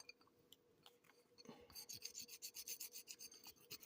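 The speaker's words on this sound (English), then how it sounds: "Just scrape that off." Residue being scraped off a freshly poured gold bar, a dry rasping scrape that starts with a few scattered ticks and then settles into a close, steady run of quick rhythmic strokes.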